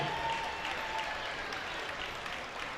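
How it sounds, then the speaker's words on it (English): Steady applause from a crowd at a men's college basketball game, AAMU vs Samford, continuous clapping at an even level throughout, with no talking over it. "Let's give a big round of applause."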